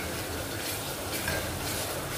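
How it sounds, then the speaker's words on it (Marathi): Ground spices sizzle and fry in a pan as the base for a dhaba-style mutton curry, a steady close hiss with faint stirring and no talk. "तर हे सर्व मसाले आता तळून घ्यायचे।"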